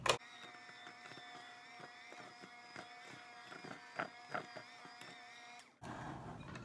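An electric mixer beating Montreal-style bagel dough, a steady whining motor hum with irregular knocks of the beaters, close and moderately loud, cutting off abruptly near the end.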